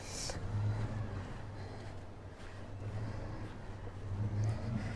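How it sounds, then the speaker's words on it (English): Little two-cylinder engine of a Citroën 2CV idling in a street outside the medieval walls of Vannes, Brittany, a steady low throbbing hum that holds throughout at moderate distance with faint background noise. "That's the deux chevaux sound. That is the sound of that little engine."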